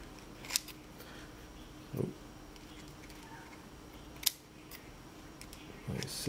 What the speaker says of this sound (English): So I have to use a pair of scissors, cut it off just like that.